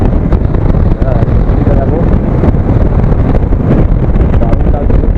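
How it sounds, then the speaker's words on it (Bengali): Heavy wind buffeting a microphone in a moving vehicle on the road to Siachen base camp in Ladakh, a loud, constant low rumble and flutter, with a brief spoken word over it. "হাওয়াও দিচ্ছে।"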